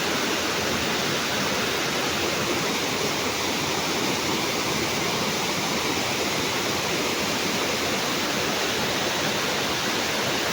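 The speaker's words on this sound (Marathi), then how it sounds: "अशा तऱ्हेने या पाणी हळूहळू असा मार्गस्थ होता आणि खाली जाऊन तो प्रवाह ओहोळाक जाऊन मिळता" Monsoon rainwater pouring from a waterfall and running down a stream in Bhogalewadi, Malvan, Sindhudurg, giving a loud, constant broadband rush of water that never lets up.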